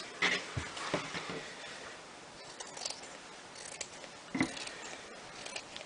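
Scissors snip through green vegan felt sheets, cutting them lengthwise into strips, with a few faint, scattered cuts and rustles over a quiet room.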